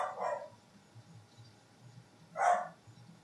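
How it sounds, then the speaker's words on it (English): Two short dog barks, a loud one at the start and another a couple of seconds later, heard indoors behind a quiet room with no one talking. "Your dog is losing his mind again."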